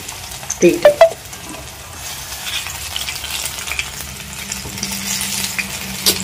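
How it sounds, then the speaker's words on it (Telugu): Amla (Indian gooseberries) fry in hot oil for a spicy gooseberry preparation, a steady close sizzle with a few sharp pops and stirring knocks near the start, then a continuous hiss with no talking. "మనం ఇట్లా నూనెలో వేసి చక్కగా వేయించుకోవచ్చు"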